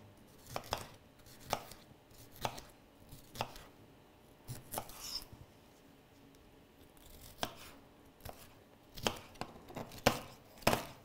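A knife chops crisp bell peppers on a board in sharp, irregular cuts, some coming in quick pairs, close and fairly quiet with no talking.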